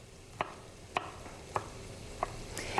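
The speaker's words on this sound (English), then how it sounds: "Give those a nice little chop." A knife chops broccoli on a cutting board in five distinct, evenly spaced taps, close and fairly quiet, with no voices.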